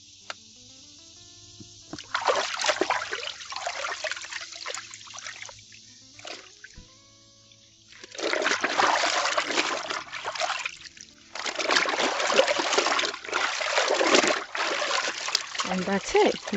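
Soapy water squeezed by hand out of white jeans being hand-washed, heard as wet splashing and dribbling bursts that stop and start, close by, with stretches of quieter pause between them.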